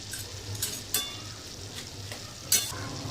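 Fried lentil dumplings (bori) go into a frying pan with garlic, sizzling softly under a few scraping stirs and a couple of sharper clatters, with no voices.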